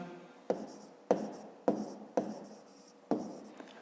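A pen writes out a fifth-grade maths exercise on paper by hand, with five or six scratchy strokes starting and stopping at a steady pace, close and quiet.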